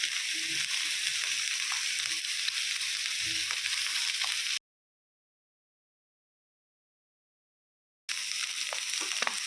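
Maggi noodles with their spice mix sizzle steadily in a pan, a bright hiss with faint stirring scrapes, cut by a few seconds of total silence before the frying resumes.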